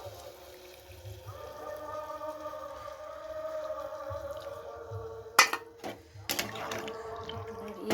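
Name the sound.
water poured into a cooking pot with vegetables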